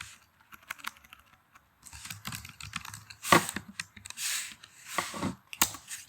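Keys clatter on a computer keyboard in rapid, uneven bursts as a file name is typed, close and moderately loud with short pauses between runs of keystrokes and no talking.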